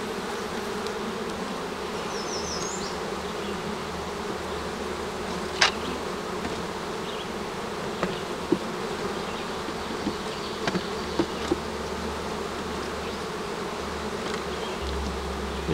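Honeybees buzz around an open beehive in a dense, steady drone that stays close and continuous, with a few faint clicks and no talk.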